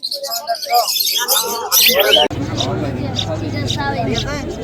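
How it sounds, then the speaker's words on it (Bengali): Myna chicks chirping at a bird market, shrill repeated chirps close by, with people talking over them at first and a busier chatter of calls afterward. "250 টাকা পার পিস শালিকের বাচ্চা দেখছেন।"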